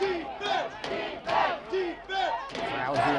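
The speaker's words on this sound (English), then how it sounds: "Crowd here in Boston back into it" Crowd at a 2015 ultimate frisbee game in Boston, Philadelphia Spinners at Boston Whitecaps, cheering and shouting in repeated surging bursts, fairly close and lively.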